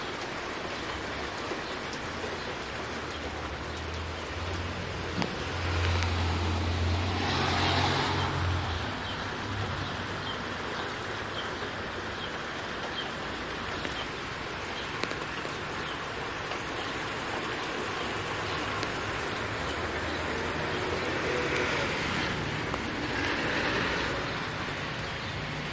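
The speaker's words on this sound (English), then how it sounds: "it's starting to rain again. Heavy." Heavy rain pours steadily during a thunderstorm, a dense, even hiss of drops on surfaces with brief swells in intensity and a faint low rumble near the middle.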